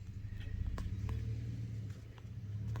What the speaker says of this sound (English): Garth is test driving a vehicle.